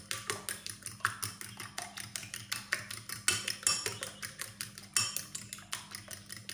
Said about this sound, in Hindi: ये 2 अदद अंडे ले लिए। इसको अच्छे से फेंटना है।